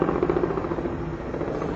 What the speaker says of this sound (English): Here comes this helicopter again.